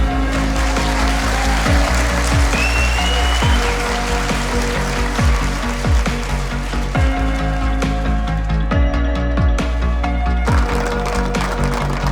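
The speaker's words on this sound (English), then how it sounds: "Big round of applause." Applause at a fishing match prize-giving at Tunnel Barn Farm's Spring Spectacular, a steady patter of clapping that sounds almost like rain, held at an even level for the whole stretch beneath a continuous low hum.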